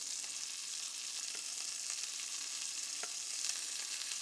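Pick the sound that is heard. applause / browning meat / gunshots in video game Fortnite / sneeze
browning meat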